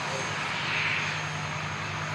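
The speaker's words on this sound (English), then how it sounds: "Couldn't miss up the opportunity to capture the C-17" Engines of a C-17 military transport aircraft at Christchurch Airport, New Zealand, a steady distant drone with a low tonal hum holding evenly throughout, no voices over it.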